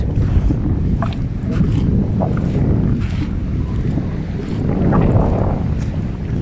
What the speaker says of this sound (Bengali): প্রচন্ড হাওয়া দিচ্ছে এখানে।